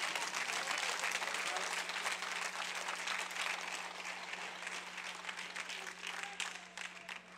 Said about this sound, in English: We got two people to clap.